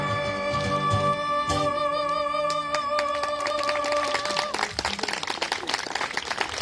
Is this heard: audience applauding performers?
yes